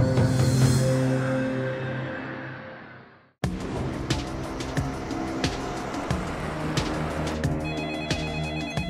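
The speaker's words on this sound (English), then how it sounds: "Minutes after the first phone call, Selena Fong's kidnappers call again." A telephone rings with a loud, sustained bell tone that fades out, then more ringing and busy tonal sound follow after a sharp cut.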